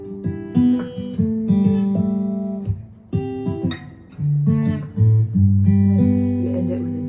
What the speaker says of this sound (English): You could do the power chord.